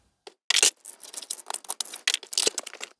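Sealed thick cardboard box for a Foxtheon iGo1200 power station being opened by hand: a sharp tearing burst, then a run of scraping, rustling and crinkling packaging sounds, close and fairly loud, with no talk.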